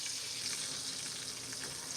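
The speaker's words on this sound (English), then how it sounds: "I'm gonna get my last batch of the tomatoes frying up in here" Breaded green tomatoes frying in a pan, giving a steady, dense sizzle and crackle that stays even throughout, close up and with no voices.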